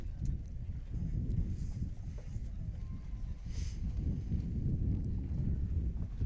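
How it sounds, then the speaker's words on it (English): Gusty wind buffets the microphone at an outdoor archery range during a barebow men's gold final in Arizona, a low, continuous rumble that swells and eases throughout. "And now the wind is picking up."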